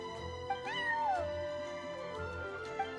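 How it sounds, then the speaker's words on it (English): A neighbor's cat meowing in a video game, one clear drawn-out meow that rises then slides down, set against a steady layered musical background. "that's my neighbor's cat"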